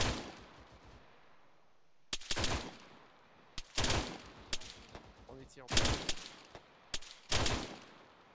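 Gunfire in the video game Arma 3 arrives as about half a dozen sharp separate bursts, each loud and ringing, spread across the stretch with quieter gaps between.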